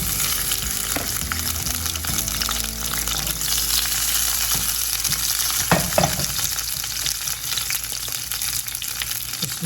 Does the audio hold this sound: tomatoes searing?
yes